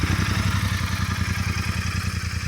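A 2025 Royal Enfield GT 650 parallel-twin motorcycle idles at close range, its engine giving a steady, rapid low thump with a slight mechanical clatter and no rise in revs, heard alone without talk.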